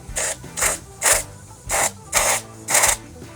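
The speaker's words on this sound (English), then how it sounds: "I need to blow it out. So I'm gonna use some compressed air." Compressed air blows out a freshly drilled hole in concrete while a deck ledger is being attached. Six short, loud, evenly spaced hissing blasts sound close by, with no talk.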